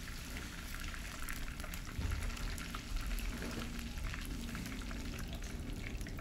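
Cauliflower florets fry in hot oil over a high flame for gobi manchurian, giving a steady, dense sizzle and bubbling crackle that is close and continuous, with no voices.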